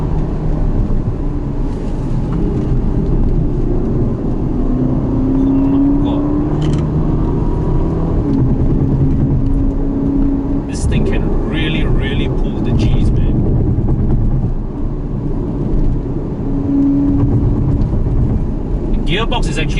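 A 2019 Ferrari GTC4Lusso T V8 on a mountain run to Genting powers past another vehicle, its engine a steady loud drone with rising tones throughout and wind rush inside the cabin.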